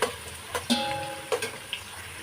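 Onions sizzle in hot oil at the start of an egg and potato vegetable biryani, a close, steady frying hiss broken by a few brief stirring knocks.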